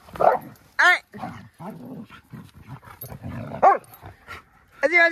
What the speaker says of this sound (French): Les chiens heureux ici.